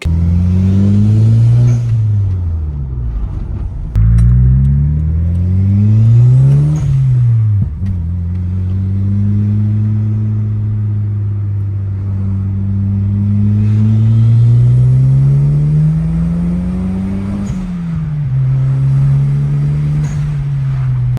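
Toyota Celica GT-Four with a new decat downpipe exhaust revving hard, loud rising and falling engine revs in several blips, then a long sustained high-rev hold before dropping and revving again, close by with no talking.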